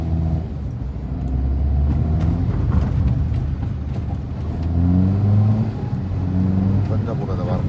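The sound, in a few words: car accelerating while being driven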